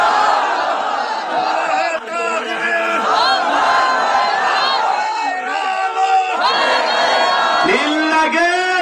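A rally crowd in Bogura shouts the takbir in unison, loud massed voices raised in repeated bursts of chanting and cries with speech mixed in.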